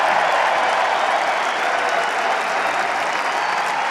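Spectators at the Roland-Garros men's final clay tennis match applaud loudly and steadily, a dense roar of clapping from a large stadium crowd throughout.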